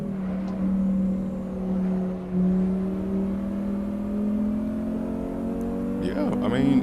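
Engine of a 1994 Audi Sport Quattro rally car on a retro rally stage, a steady droning engine note that dips and rises with throttle, heard from inside the car while a driver talks over it.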